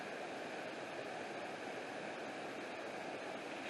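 A mountain stream runs beside the hiking trail up to Anna Ruby Falls near Helen, Georgia, giving a close, steady broadband rush of flowing water with no voices.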